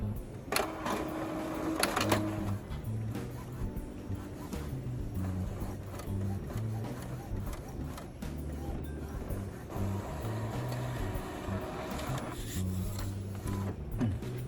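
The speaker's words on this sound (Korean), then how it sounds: "그래서 다시 한번 확인 눌러서 인쇄를 해보겠습니다." An Epson WF-2851 inkjet all-in-one printer runs a print job with continuous mechanical whirring, rhythmic carriage shuttling and clicks at close range, and no one talks.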